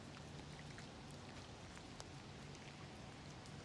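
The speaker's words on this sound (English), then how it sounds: "See the pitter-patter of rain" Steady light rain patters down over cherry blossom trees in Tokyo, a soft continuous hiss with scattered faint droplet ticks and no voices.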